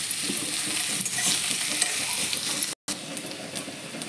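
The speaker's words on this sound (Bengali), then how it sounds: "যে আমার মশলাগুলো ভাজা হয়ে গেল।" Chopped ginger, garlic, onion and spices fry in a pan with a constant close sizzle and a few scraping stirs, broken by a brief dropout near the end.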